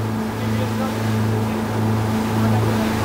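A Grady White boat engine with mechanical throttles idles at a boat ramp during a sea trial after the boat had sunk, humming in a steady, loud low drone with water and wind noise around it.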